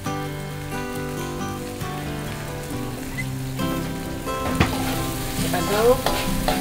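Lemongrass and bay leaves fry in a pan as the base for cooking river snails in oyster sauce, a steady close sizzle with stirring scrapes, while music plays over it throughout.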